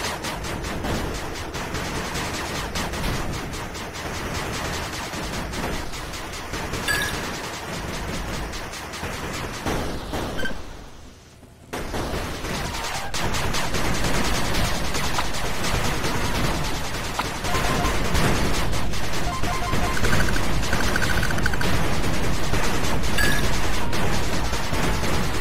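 A machine gun turret in the video game 8-Bit Armies fires in a dense, continuous roar of rapid shots, breaking off briefly midway before resuming, even louder, through to the end.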